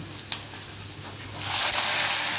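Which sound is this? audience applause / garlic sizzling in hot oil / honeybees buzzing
garlic sizzling in hot oil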